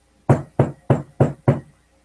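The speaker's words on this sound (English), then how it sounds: "He gives another gentle rap on the door." Five gentle, evenly spaced knocks on a door at an alley back entrance, each a soft, dull, close thud with no talking over them.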